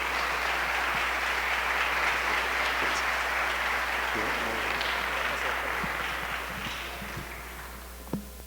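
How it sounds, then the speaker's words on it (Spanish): An audience at an international journalists' meeting applauds to welcome an author, sustained dense clapping over a low steady hum that gradually tapers, with a single sharp knock near the end. "recibamos con un aplauso a nuestro autor, Javier Darío Restrepo"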